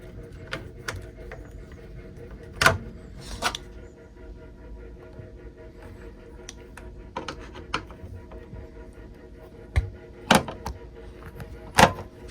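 A screw being driven into plastic to fit a lid lock on an LG washer makes a soft, steady mechanical whir with several sharp clicks and knocks scattered through it, close and fairly quiet.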